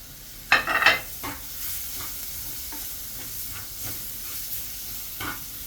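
Chicken and spices frying in hot oil in a pan, with soft sizzling and a few louder scraping stirs near the start, then scattered lighter stirs over a steady hiss.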